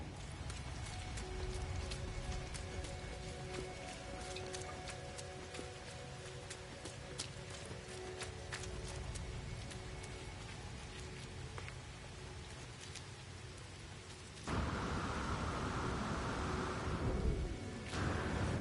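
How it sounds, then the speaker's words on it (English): Steady rain hisses through a stormy scene in the video game No Man's Sky, with faint thunder rumbling beneath it, then growing louder and denser near the end. "I guess maybe the rain is scaring all the animals away."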